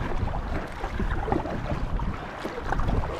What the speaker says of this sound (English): this is like a constant 28 mile per hour wind